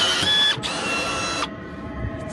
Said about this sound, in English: it's always nice to have tools like this riv nut gun